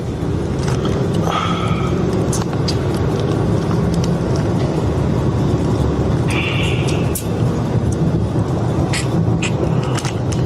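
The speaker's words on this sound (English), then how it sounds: "Oh, I'm driving too fast?" A car drives steadily with constant road and engine rumble close by for the whole stretch, while people talk inside over the noise.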